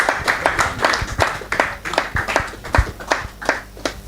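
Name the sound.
audience applause at investing event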